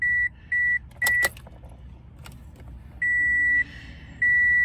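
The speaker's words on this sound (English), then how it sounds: "Then you'll go ahead and turn the car back on." An older, early-2000s Toyota car is switched back on, setting off a series of steady electronic chime tones in repeated evenly spaced bursts, with a brief mechanical clunk between them inside the cabin.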